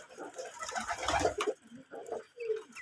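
Native pigeons coo softly in a few low, throaty bursts, faint and close by, with light background clatter.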